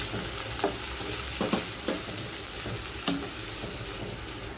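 Chopped onion and sliced green chili frying in mustard oil, a steady close sizzle with soft crackles and occasional stirring scrapes throughout.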